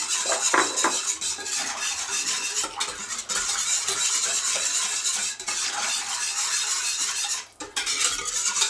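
A utensil stirs cream soup in a pot, making steady scraping and clinking against the metal, close and fairly quiet, with a soft simmering hiss underneath.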